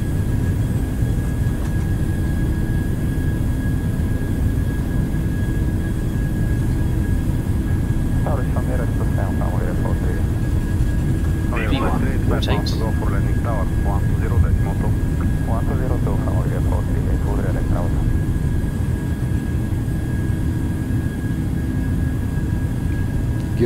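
Boeing 737 jet engines at takeoff thrust in a flight simulator, a steady loud broadband roar with a constant high whine, while voices talk intermittently over it in the middle of the clip.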